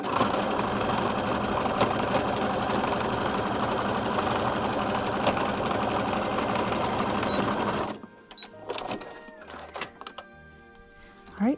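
A sewing machine zigzag stitches stretchy fabric for a child's car seat poncho neckline, running loud and steady for about eight seconds before stopping, followed by a few quieter handling clicks and thumps.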